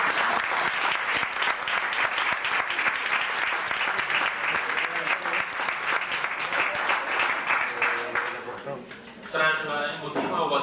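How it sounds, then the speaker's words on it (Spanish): An audience at a lecture breaks into sustained applause, many hands clapping densely and close for about eight seconds before it thins out, with a few voices rising near the end. "Pueden aplaudir."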